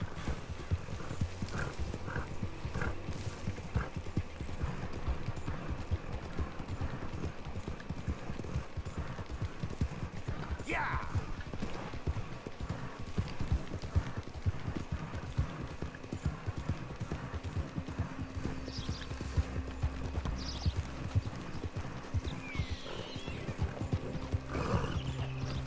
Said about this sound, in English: Pobre caballo, está cansado.